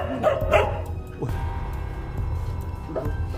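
Dogs bark and yip in a few short bursts near the start, with a whimpering yelp around the one-second mark, set against low background rumble and a later brief yelp.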